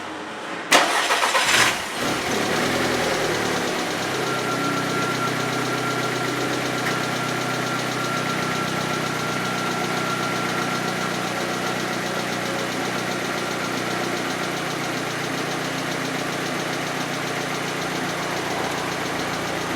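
A 2006 Volkswagen Passat 2.0T that has no power and a fuel rail pressure sensor fault cranks briefly and fires up, then settles into a steady, even idle that runs loud and close for the rest of the clip.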